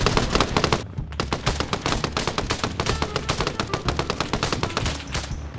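Loud, rapid automatic gunfire in the military simulation game Arma Reforger, long bursts of dense cracking shots with a brief pause near the start, close and sustained.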